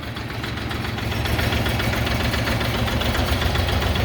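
An Orion 244 tractor engine runs with a loud, close, steady diesel chug and knocking rumble that rises slightly in level as a gear is engaged, continuing without talk.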